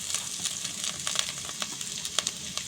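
Chopped ginger, chili, carrot, capsicum and onion fry in a pan with a dense, steady sizzle, scattered crackles and pops rising above the hiss throughout.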